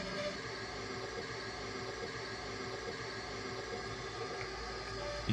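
A Piko H0 scale model BR 112 locomotive reverses along a layout track toward a siding, giving a steady, soft electric motor whir with faint wheel rumble, close and continuous throughout.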